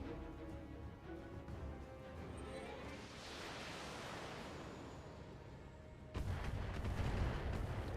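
LRM-10 missile launcher firing in the BattleTech video game: a broad, hissing roar of launching missiles swells in the middle, then a sudden heavier rumbling burst near the end. The sound is quiet and diffuse, with no speech over it.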